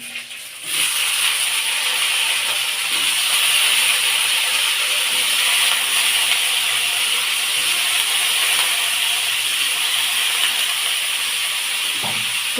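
Chopped potatoes hit hot oil already holding ginger paste, and a loud, even sizzle erupts just after the opening moment. The frying hiss then holds steady and close for the rest of the stretch.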